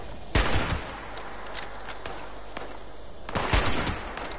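Hunting rifle and sniper shots fire in Fallout 76, a few sharp, loud cracks spaced apart, the strongest near the start and again toward the end, with no talking.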